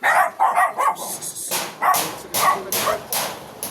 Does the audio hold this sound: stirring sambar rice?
no